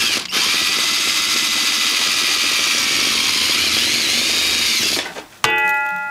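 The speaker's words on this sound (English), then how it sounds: "let's try and get this hole drilled" A power drill whines steadily and loud for about five seconds, then cuts out and briefly spins up again.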